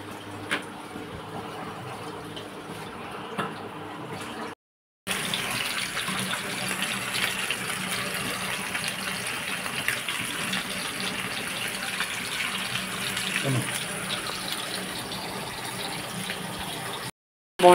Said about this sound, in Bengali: মাছ ধুয়ে দিচ্ছে